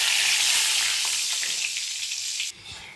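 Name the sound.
dried red chilli and bay leaf tempering sizzling in oil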